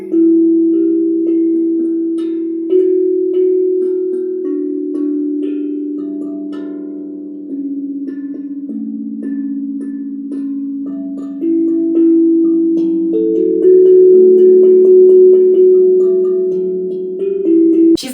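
Steel tongue drum from a drum kit rings out in rich, sustained melodic tones, notes struck one after another and overlapping in a steady, fairly loud stream with long ringing decay, no talking.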